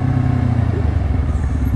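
A Honda CBR 250 RR touring motorcycle engine runs at a steady, loud, close idle with a throbbing low rumble and no change in pitch.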